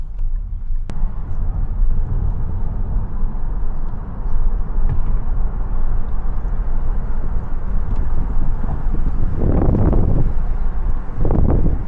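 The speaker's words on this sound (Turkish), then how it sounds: "Bayağı esiyor değil mi?" Strong wind roars through an open car window as the vehicle drives past cornfields near Kızıltepe. The buffeting stays loud and constant, with a few brief, louder gusts near the end.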